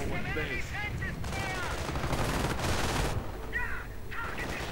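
Tank machine-gun fire in a World War II strategy video game, with a Panzer IV nearby cutting down riflemen: sustained dense bursts of gunfire amid battle noise, with a few chirping bird-like effects over the top.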